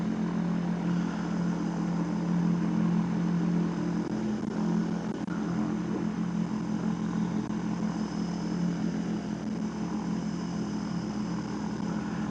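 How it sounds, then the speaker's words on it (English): A microlight trike's engine and propeller warming up before rolling down a runway, a steady, continuous drone heard from nearby with no talking. "Right, we're just going to warm up, Kevin. I'll roll down the runway."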